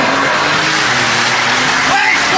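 An orange Porsche GT3 with a turbo runs with a loud, steady engine roar and rising rev that fill the whole stretch, with voices talking over it.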